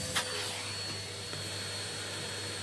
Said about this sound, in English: As you can hear, I've got a nice new Hoover.